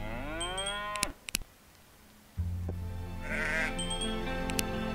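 Cattle moo in the Roblox Islands video game, a long tonal low two-part call, then a brief gap and a second bleating moo, with chiming game effects and a steady synthetic background tone.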